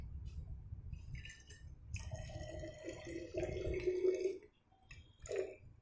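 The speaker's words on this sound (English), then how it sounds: "Now I am going to pour inside the bottle," Water poured into a glass bottle during a classroom science demonstration, a short splashing pour that rises into a bright filling gurgle, then a brief final trickle.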